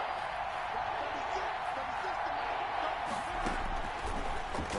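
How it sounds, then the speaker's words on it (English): Stadium crowd at an American football game roars steadily on a big third down, a dense, sustained wash of cheering that swells slightly near the end. "the crowd getting into it as we come up on a big 3rd down"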